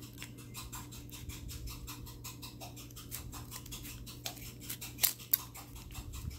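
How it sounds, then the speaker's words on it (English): Scissors snip through paper while a dragon puppet is being made, a quick, regular run of close, crisp cuts with a couple of louder clips near the end. "So you want to snip that off."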